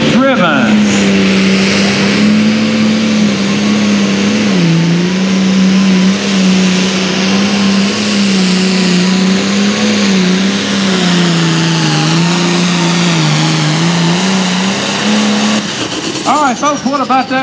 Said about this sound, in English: Nice run of that tractor out of Scottsville, Kentucky.